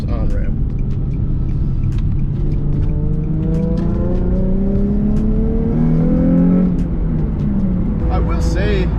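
A Nissan 350z accelerates up a highway on-ramp, its engine note climbing steadily in rising harmonic sweeps over constant road and wind rumble, loud and close from inside the car, with a brief voice near the end.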